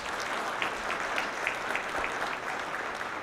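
A leadership talk audience gives a steady, dense round of applause, sustained and moderately loud throughout with no voices above it.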